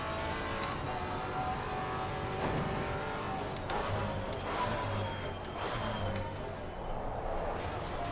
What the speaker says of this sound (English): How much wheel spin this thing wants to generate right now?